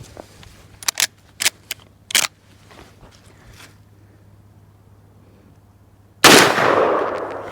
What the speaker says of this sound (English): That's 125 XTP 357 Magnum from the 16-inch carbine.